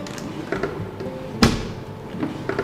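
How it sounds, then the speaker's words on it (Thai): A single dull thud of a 7 mm polycarbonate sound-enclosure lid shutting on a 3.8 hp commercial vacuum blender, partway through, over a low steady mechanical hum. "เปิดปิดนี่เสียงดังตึ๊บตึ๊บเลยครับ"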